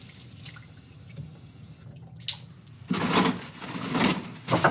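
A tap runs into a lab sink while hands are rinsed after an electrolysis experiment; quiet trickling at first, then a louder gushing stream with splashes in the second half, no talk.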